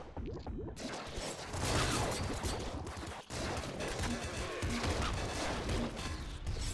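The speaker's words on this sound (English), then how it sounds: "Grenade launcher's almost out of ammo." A grenade launcher firing in the video game Nuclear Throne, dense continuous explosive blasts and gunfire with a brief dropout midway, loud and unbroken throughout.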